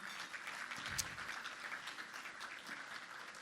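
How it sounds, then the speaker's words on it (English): Audience applause at a morning business breakfast event, a soft steady wash of clapping from a room full of people, moderately distant and continuous throughout. "Can we give him another round of applause,"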